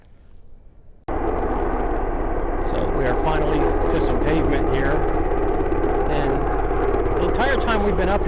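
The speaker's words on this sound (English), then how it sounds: "this helicopter has been flying back and forth" A helicopter near the Hollywood Sign hiking trail flies back and forth overhead. Its engine and rotor make a loud, steady drone that starts suddenly and holds, and people talk underneath it.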